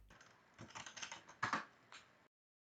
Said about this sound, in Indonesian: ketikkan flutter.dev.